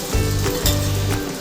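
Dried garlic sizzling in hot oil for a Telugu drumstick dal tempering, a steady close crackling fry with no talk.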